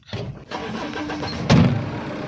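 A vehicle engine cranks and starts after crop spraying work is finished, a broadband mechanical burst swelling near the end over steady running noise, close and fairly loud.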